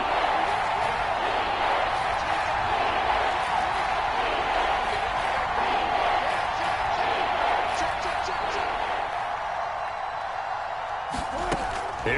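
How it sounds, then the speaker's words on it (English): In the Madden football video game, a stadium crowd roars steadily as a big third down approaches. A broadcast commentator talks over the sustained noise. "the crowd getting into it as we come up on a big third down"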